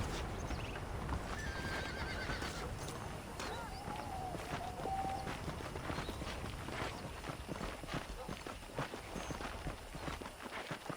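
A horse in Red Dead Redemption whinnies and its hooves clip-clop in a steady walking rhythm, with fairly quiet game ambience and a voice talking over it.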